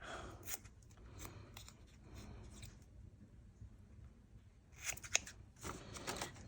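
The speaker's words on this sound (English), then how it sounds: "Just gonna try and cut it out so it's a little less" Scissors cut around stamped pieces of dyed paper, producing faint, sparse snips and crisp rustles, with a couple of sharper clips near the end and quiet handling in between.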